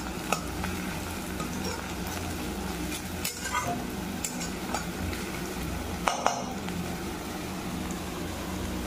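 Ginger, garlic and dried chilli paste hits browning onions in a wok for a Bengali chicken curry, giving a soft, steady sizzle with a few light clinks of a stirring utensil against the pan.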